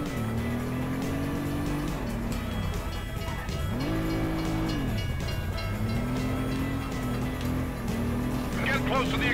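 Train passing in the Stuntman video game, a loud rumbling roar with wavering engine-like tones that rise and fall across the clip, mixed with game effects and a voice talking over it.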